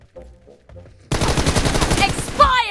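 Rapid automatic gunfire in the mobile battle royale game PUBG Mobile, a loud sustained burst of shots that cuts in suddenly after a short stretch of faint voices and game sounds, ending with a ringing ricochet.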